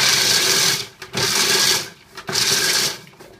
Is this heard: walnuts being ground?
yes